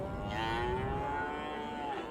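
Cattle on open grazing range give a single long, drawn-out moo at moderate distance, steady and sustained over soft outdoor background noise.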